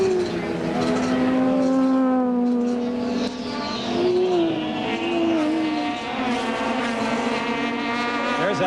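IMSA GTP prototype race cars, including a Ford Mustang Probe, at the 1985 Portland G.I. Joe's Grand Prix, several engines screaming past with rising and falling whines, loud and continuous, under a commentator's talk.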